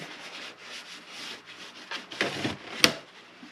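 Repeated rubbing and scraping strokes wiping out a hard plastic plant pot, close by, with a sharper knock near the end.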